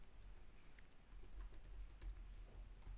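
Code typed on a computer keyboard, faint and steady, with quick irregular key taps running throughout over a low background hum, no speech.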